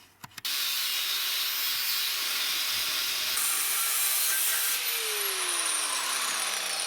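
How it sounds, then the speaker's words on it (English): A metal bracket is cut during a Polaris wide-track hydraulic brake upgrade, a loud, continuous, hissing grind that starts abruptly after a few brief knocks and holds steady, close up, with no talking. "So I'm gonna cut this and cut that other bracket"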